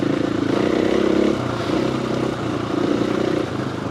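A two-stroke motorcycle rides a rocky green lane in South Devon in winter, a mid-pitched engine buzz rising and falling with the throttle alongside clattering over stones, steady and fairly close.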